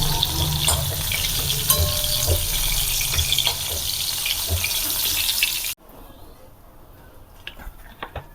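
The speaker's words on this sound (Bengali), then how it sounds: "পটলগুলো সব লাল লাল করে ভেজে নিয়েছি" Pointed gourd (potol) pieces fry in hot oil in a pan with a dense, steady sizzle that suddenly drops away to near quiet with a few faint clicks.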